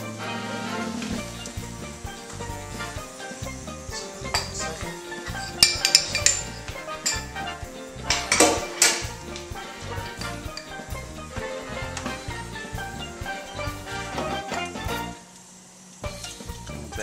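Browned Jamaican BBQ pork tenderloin basted in a pan: steady clinks and scrapes of a spoon on cookware over a light sizzle, close and fairly loud, with a few sharper knocks.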